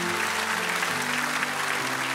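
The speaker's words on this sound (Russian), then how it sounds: "Давайте мы дадим Господу аплодисменты за каждого из них" A church congregation applauds in a steady, dense wash of clapping, with a low sustained tone from musical accompaniment underneath.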